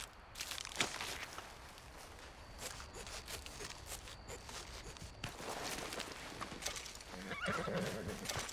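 A horse in the video game Red Dead Redemption 2 whinnies and neighs while its hooves clip-clop steadily, with a louder, close neigh near the end and no talking.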